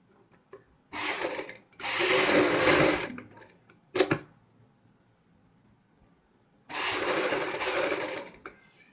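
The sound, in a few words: sewing machine stitching piping onto a sleeve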